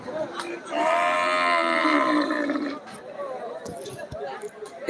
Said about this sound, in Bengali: এখানে একটি সুন্দর গরু দেখতে পাচ্ছি দেখুন